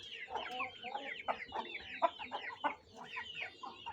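An Aseel hen clucks in a steady run of close, throaty calls while laying eggs, other fowl faintly audible behind.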